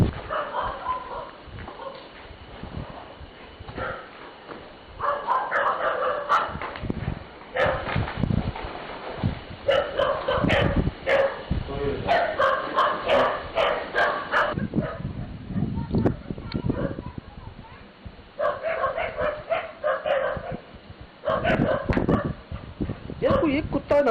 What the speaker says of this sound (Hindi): दूर से भौंक रहे हैं, करीब कोई नहीं आ रहा